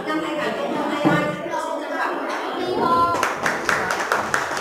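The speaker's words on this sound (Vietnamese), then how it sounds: "Vỗ tay." Audience at the opening ceremony of a summer youth program in a Vietnamese commune claps in scattered bursts, moderately loud, with a voice talking over the clapping and some crackly outdoor noise.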